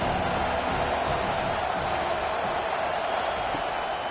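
Football stadium crowd at a college game roaring for the defense on a big third down, a dense, steady wall of cheering and noise with no breaks.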